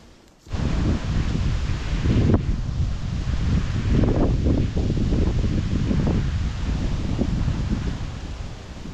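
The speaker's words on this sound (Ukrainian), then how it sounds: "треба їхати, тому що вітер піднімається, західний вітер 8 метрів." A westerly wind rushes through dense forest trees near a marsh, a loud continuous roar of rustling leaves and gusts buffeting the microphone, swelling and easing in waves after a quiet start.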